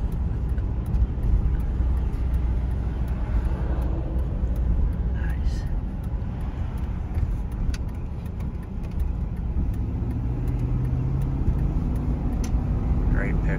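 Inside a 2002 GMC Yukon XL on the move, a steady low road and engine rumble fills the cabin while people talk.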